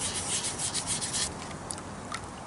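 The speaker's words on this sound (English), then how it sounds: "Don't keep sanding on something forever." Abrasive rubbing of 500 grit sandpaper on a carved stone smoking pipe bowl, a steady close scratchy hiss in quick back-and-forth strokes that eases slightly in the second half.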